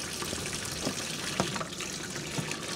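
Water from a hose pipe gushes steadily into a washing machine drum for a rinse, a continuous close watery rush with small splashes and knocks on top.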